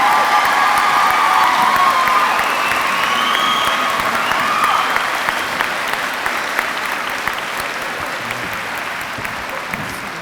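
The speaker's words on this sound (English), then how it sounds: "let's give these students a round of applause" Loud, sustained applause from a crowd at a nursing candlelighting and pinning ceremony for students, with cheers and whoops early on, gradually thinning into scattered claps.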